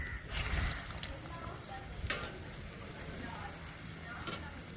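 Sweet urad dal vadas frying in hot oil, giving a steady low sizzle and bubbling with a few brief clatters, quiet and continuous beneath background speech.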